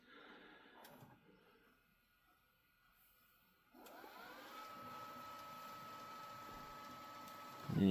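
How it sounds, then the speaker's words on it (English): A JVC DR-MV150 DVD VHS VCR combo recorder performs a high-speed rewind, a quiet mechanism click followed by a steady whirring tape-spool whine that holds evenly before a louder clunk at the end. "Do a high-speed rewind."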